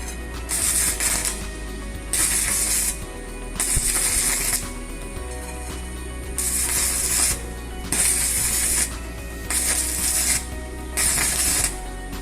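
An arc welder strikes its arc by scratching the electrode across the workpiece, giving repeated bursts of loud, harsh crackling hiss. Each burst lasts about a second, separated by short quieter gaps over a steady electrical hum, and no voices are heard.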